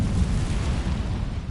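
The Incendio fire spell is cast in Hogwarts Legacy, giving a brief, heavy, rumbling burst of flame with a strong low roar that holds steady for just over a second.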